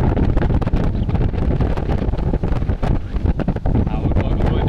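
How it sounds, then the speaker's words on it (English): Strong wind gusts buffeting the microphone on an old Soviet-era fairground ride in Tiraspol, Transnistria: loud, continuous roaring and rumbling with uneven surges throughout. "No, it's blowing so much. And now we're swinging, the wind's swinging us."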